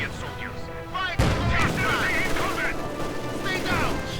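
Machine gun fire and explosions from Company of Heroes 2, with an MG-42 firing amid a loud, dense battle mix and a sudden heavy boom partway through, while a commentator talks over it.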